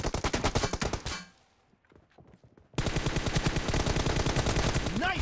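Loud automatic gunfire in a shooting video game chatters in fast, steady bursts, breaks off into a brief quieter gap with faint clicks, then resumes just as dense and close.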